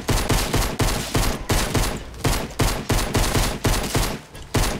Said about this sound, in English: Oh, he's gonna shoot you!